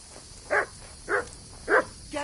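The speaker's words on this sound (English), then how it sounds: "Get out of here, mutt. No one wants to hear you barking." A dog in the video game Kingdom Come Deliverance II barks three times at an even pace over a faint background hiss, fairly close.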